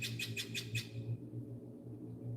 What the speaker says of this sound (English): That bird sure is loud. That's a blue jay.